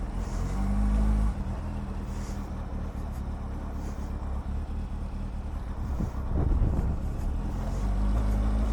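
Honda Hornet motorcycle, rebuilt after a crash, ridden along a road with a steady engine drone and wind rush, rising briefly as it accelerates, with no talking.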